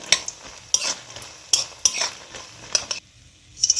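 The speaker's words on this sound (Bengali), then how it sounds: "বড়িগুলো একটু লাল লাল করে ভেজে নিতে হবে।" Lentil dumplings (bori) fry in oil left over from frying potato and pumpkin. A soft sizzle sits beneath repeated sharp clinks and scrapes of a spoon against the pan, with no talking.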